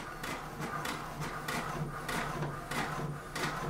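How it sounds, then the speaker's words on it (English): An HP DeskJet 4255e inkjet printer runs a page, its mechanism giving a steady whirring hum with regular rhythmic pulses from the carriage passing back and forth, close and moderately loud with no voices. "press print. The print should be out in a few seconds."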